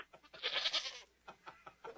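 A goat bleats in a loud, wavering call, followed by several shorter, quieter bleats spaced out after it, with no talking.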